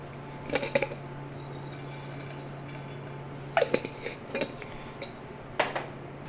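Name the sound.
pumpkin seeds (pepitas) crackling while toasting in oil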